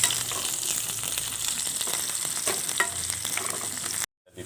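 Finely chopped shallots or onions frying with chili in a pan for a stir-fried soybean sprout dish, a loud continuous sizzle with occasional stirring scrapes, cutting off abruptly near the end.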